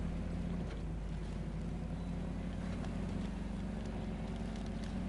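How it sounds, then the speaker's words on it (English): A steady, low video game truck engine drone hums continuously in SnowRunner, a heavy truck motor running at constant load with a rumbling, even tone. "it's a decent sounding engine. It actually sounds like the truck's putting in some work."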